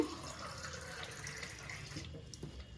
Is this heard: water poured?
yes